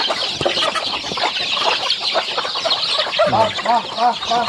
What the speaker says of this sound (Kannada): ಈ ಥರ ಒಂದು ಒರಿಜಿನಲ್ ನಾಟಿ ಕೋಳಿ